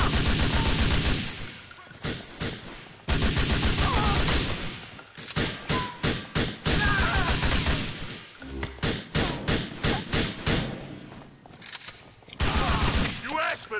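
Gunfire in Grand Theft Auto 4 during a money heist, with repeated loud bursts of rapid shots separated by brief pauses, sustained over many seconds and close by.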